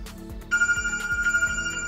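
A cell phone rings close by with an incoming call from a portable GSM alarm, a bright warbling electronic tone pulsing rapidly over a faint rhythmic background.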